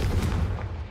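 A Confringo fire spell explodes in the video game Hogwarts Legacy, a loud low boom and rumble that holds steady for a moment with no talk over it.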